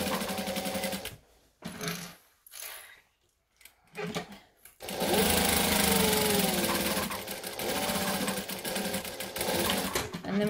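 A sewing machine stitches lines through layered fabric in short bursts with pauses, then runs in a long, steady, close whirring stretch near the end.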